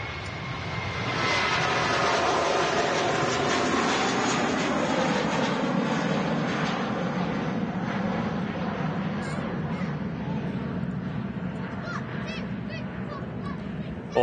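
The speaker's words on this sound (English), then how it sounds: "I'm super excited to see this Jet 2 A330 heading out" A Jet2 Airbus A330 airliner taxis at Manchester Airport, its engines giving a steady, loud broadband roar that holds throughout, with faint bird calls and distant activity in the background.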